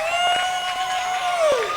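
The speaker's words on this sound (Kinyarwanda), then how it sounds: "Ndashaka numva impundu n'amashyi ya Yesu yagiriye neza." A church congregation ululates in high, sustained wavering trills while scattered hand claps sound beneath, lively and fairly close throughout.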